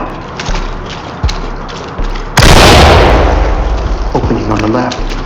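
Flashbang grenade detonating in a room during a tactical police breach in the Ready or Not game, one sudden loud blast that rings on and fades slowly, with a few earlier thuds and a voice briefly audible afterward.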